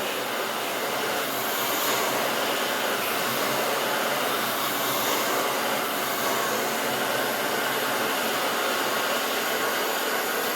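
A hair dryer on medium heat blows steadily while hair is dried and styled with a round brush, a loud continuous rushing whoosh heard close up for the whole stretch with no talking.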